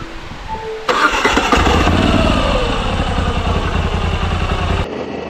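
Moto Guzzi V7 Stone motorcycle engine starting up: an abrupt crank and catch into a loud, close, steady throbbing idle that runs for several seconds before cutting off.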